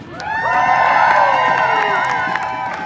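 A crowd at an outdoor ICE protest cheers and whoops for a speaker, loud voices and shouts swelling and holding steady throughout.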